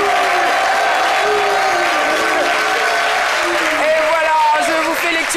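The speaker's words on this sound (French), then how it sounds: "Et pourquoi pas ne pas applaudir pour le public qui est avec nous aujourd'hui." A studio audience at a French midday television talk show claps loudly and continuously with some cheering, while voices talk over the applause throughout.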